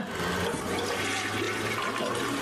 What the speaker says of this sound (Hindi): हे दोस्त, हगने के बाद फ्लश कर देना।